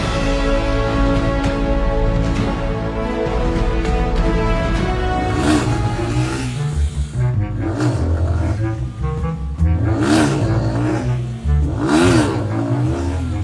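A small race car engine revs hard, pitch climbing and dropping through repeated throttle bursts to around 7000 rpm, loud and close with rattling mechanical whine.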